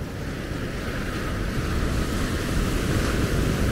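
Ocean surf breaking on the beach at Maspalomas, Gran Canaria: a steady, loud wash of waves rolling in continuously with wind buffeting the microphone, no voices.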